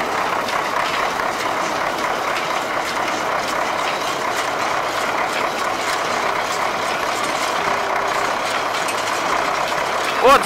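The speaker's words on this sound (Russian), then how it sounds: "Вот звук трактора меняется" MTZ tractor driving a hay baler through its PTO shaft in winter, a steady loud mechanical engine drone with rattling and clanking running throughout, close by.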